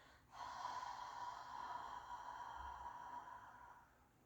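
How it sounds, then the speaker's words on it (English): A single long, controlled exhale during a kneeling or standing core exercise, a soft breathy rush that starts with a slight snort and tapers off over about four seconds, close and quiet. "So exhale."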